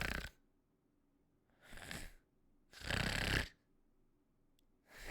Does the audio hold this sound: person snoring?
yes